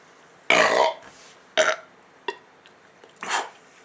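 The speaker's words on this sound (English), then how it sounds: "Well, that was more than burp." A loud close burp followed by a few shorter burps and throaty gulps spaced over a few seconds, with quiet gaps between.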